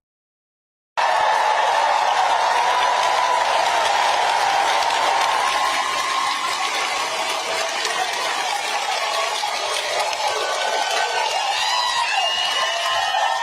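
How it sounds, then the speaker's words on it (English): Loud, sustained applause from a large crowd, dense clapping mixed with cheers and whoops, starting abruptly and continuing steadily throughout. "so huge applause. And it's a big crowd"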